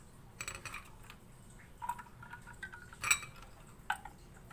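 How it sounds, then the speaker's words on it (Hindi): Ice cubes dropped into raw mango sharbat give a few sharp, scattered clinks against the glass, spaced apart over a quiet kitchen background. "और इसमें हम आइस क्यूब ऐड कर देंगे"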